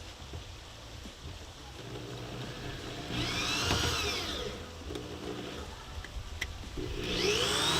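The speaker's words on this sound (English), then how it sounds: "I forgot one hole. I'll do that right now. Drill that hole." A power drill whirs in two rising bursts, drilling a hole for a floor hatch on a boat, close and loud, over a low steady background hum.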